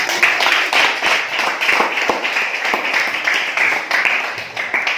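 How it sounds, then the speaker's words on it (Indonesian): A class of students claps their hands in a classroom, giving a sustained round of dense, lively applause that fills the room. "beri tepuk tangan"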